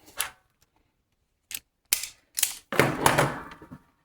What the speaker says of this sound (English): So cut this off. Strip the wires.